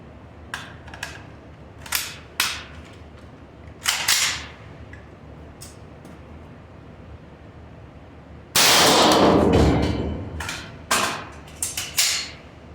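M193 rifle rounds striking steel armor plate: several sharp, ringing impacts spaced apart, then one louder, longer blast burst followed by more quick cracks, all close and without talk.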